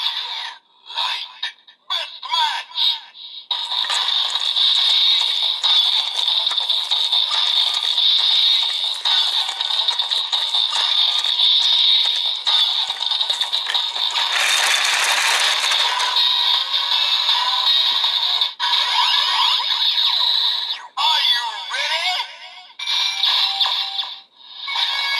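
Kamen Rider Build DX Octopus Light Full Bottle toy set playing its electronic sound effects: a loud, steady, bright tonal whir with a brief noisy burst near the middle and short chirps trailing off at the end.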